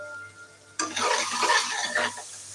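Onions and green chilies sauté in oil inside a pressure cooker for mutton kurma, a sudden burst of close, crackly frying and stirring that lasts just over a second after a quiet start.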